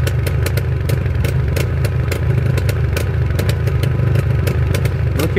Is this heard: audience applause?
no